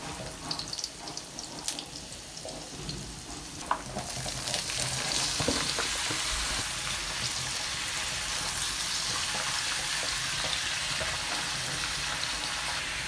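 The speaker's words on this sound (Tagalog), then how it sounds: "At sunod ko namang inilagay agad-agad itong sibuyas at saka isinama ko na rin itong luya para magisa-gisa ako ito ng kaunti" Garlic, onion and ginger sauté in hot oil for a Filipino vegetable dish in coconut milk, starting with scattered crackles and stirring, then swelling into a loud, steady sizzle.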